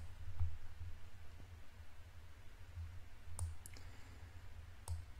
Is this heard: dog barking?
no